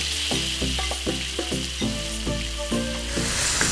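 Chicken sizzles loudly in a hot wok, with a steady crackling hiss and intermittent scraping as it is stirred.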